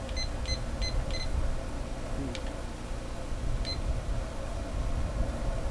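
A kitchen timer beeps in short repeated bursts beside a pellet smoker grill, three quick beeps near the start followed by a couple of fainter single chirps, over steady background noise.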